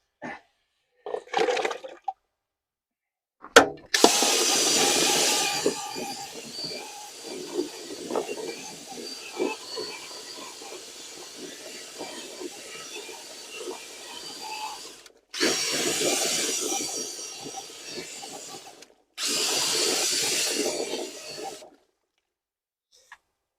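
Power drill spinning a toilet brush attachment on an allotment, with loud whirring bursts, a short one, then a long continuous run and two more bursts, close and steady with gaps between.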